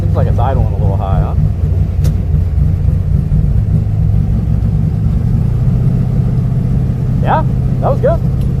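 A drag race car idles high with a steady, loud, deep rumble close by from an in-car position during a bracket racing event, while people talk briefly over it at the start and near the end.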